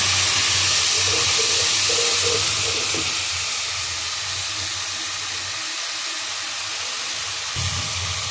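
Water hits a hot pan of frying onions with salt, turmeric and chili powder, setting off a loud hissing sizzle that slowly eases into a quieter, steady simmering bubble.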